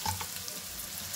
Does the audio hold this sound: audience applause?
no